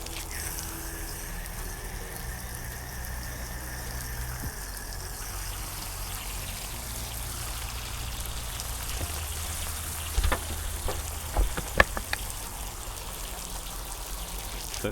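An old garden hose watering a garden outdoors, a steady hiss of spraying water pattering on leaves and soil throughout, with a few sharper knocks and splashes near the end.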